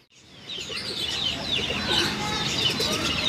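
Pigeon calls from a Kalduma high flyer hen, a soft cooing and chirping stretch that rises and holds steady, close by with no talk.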